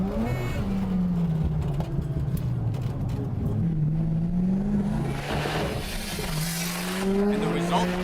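A tuned Mazda RX-7 FC3S race car accelerates hard along a short straightaway while overtaking another FC, its engine note rising and sweeping in pitch with a brief tire squeal, loud and close under a speaking voice.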